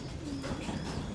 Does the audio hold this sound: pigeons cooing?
yes